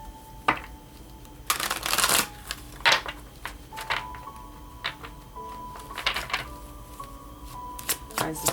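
Tarot cards shuffled in short riffling bursts with quiet gaps between them, close up, with a faint steady tone running underneath.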